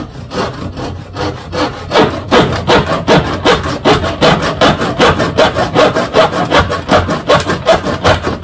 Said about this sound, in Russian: Сейчас вот попробуем на камеру еще раз попилить уж в наглую.